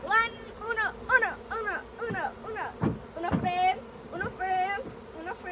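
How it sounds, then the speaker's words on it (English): Honeybees buzzing around beehive frames during a honey harvest, several close wavering buzzes rising and falling as individual bees fly near, with a faint steady tone underneath. "I've got some bees in here, which I don't want any bees in here"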